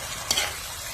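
Vegetables sizzle and are stirred in a pan over a wood-fire stove, a brief hissing fry with one sharp scrape of the spatula, close and moderately loud.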